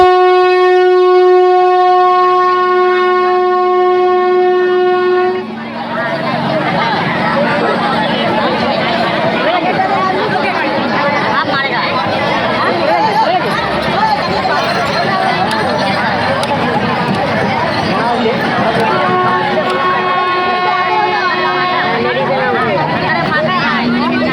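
Dense crowds of pilgrims fill Tarakeswar railway station, a loud unbroken babble of many voices; a sustained horn-like tone sounds at the start and returns faintly near the end.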